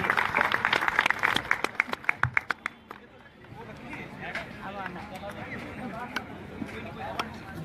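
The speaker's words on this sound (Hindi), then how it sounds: "तालियां बजा दीजिए डॉक्टर सुशील भाटी जी।" Audience applause at a Gurjar Day award ceremony, a burst of sharp scattered claps that tapers off after a few seconds, followed by murmuring voices and nearby talk.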